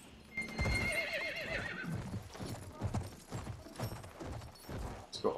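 A horse in the Battlefield 1 video game gallops with rapid clip-clop hoofbeats and lets out a loud whinnying neigh near the start, the hooves continuing rhythmically throughout at moderate volume.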